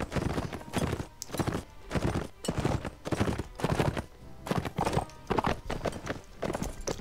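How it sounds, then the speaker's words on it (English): A horse gallops in the Mount & Blade: Warband video game, with steady, loud, rhythmic hoofbeats close by that continue without a break and an occasional whinny. "my horse is faster"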